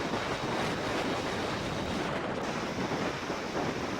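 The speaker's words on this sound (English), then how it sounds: "The winds have increased and the waves are over 12 feet high now." Twelve-foot ocean waves crash and roar under hurricane winds, a dense, loud wash of surf and wind buffeting the microphone without a break.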